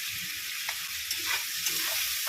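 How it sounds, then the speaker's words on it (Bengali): Shrimp fry in a pan, making a soft, continuous sizzle with a few light stirring clicks and scrapes, fairly quiet and without voices. "চিংড়ি মাছটা ভাজছি"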